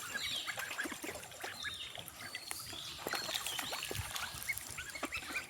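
Kuttanad ducks quack and chatter in scattered bursts amid soft water sounds and rustling, moderately close, with no talking.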